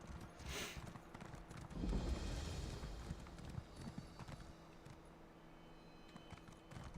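Horse hooves clip-clop at a steady walking pace in a video game, fairly near and quiet, with a brief louder burst of movement partway through and no talk over it.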